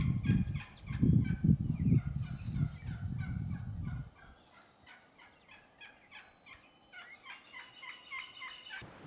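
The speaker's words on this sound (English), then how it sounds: "I've never heard a couple hens call this much." Wild turkey hens call repeatedly in quick, excited runs of sharp yelps, fairly loud and close, going on without pause over a heavy low rumble during the first few seconds.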